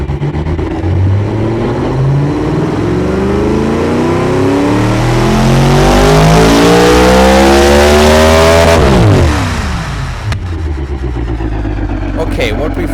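Simulated car engine in the video game Automation revs steadily upward through the range for about nine seconds, harmonics climbing, then drops sharply and idles down, loud and continuous, with no talk over it.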